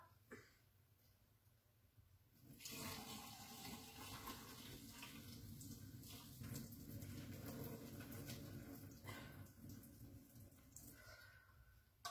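Pasta water pouring out of a pot into a strainer with a sudden, sustained gushing rush and splashing, preceded by a quieter moment and tapering off near the end, close by.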